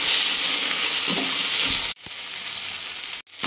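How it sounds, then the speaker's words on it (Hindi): Potatoes and eggplant sizzle and fry in a pan, a loud continuous hiss with soft stirring scrapes, broken by two sudden brief drops into near quiet. "देखो, मैंने ये रोस्ट कर दिए हैं आलू और बैंगन।"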